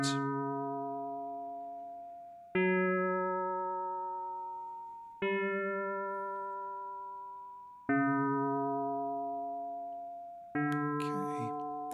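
An FM synthesizer patch edited in Mixtikl sounds four sustained, bell-like tones, each struck sharply and then slowly decaying, spaced a few seconds apart, with a brief burst of noisy sound at the end.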